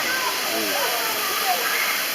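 Broadband, steady rushing roar of the waterfall at Man, heard from its flat top with faint voices blending into the constant wash of falling water.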